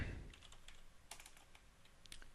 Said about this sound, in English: So I start typing.